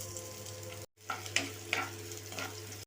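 Sliced onions go into hot oil in a pan and fry with a steady crackling sizzle, close up, broken by a brief silence and then stirring scrapes.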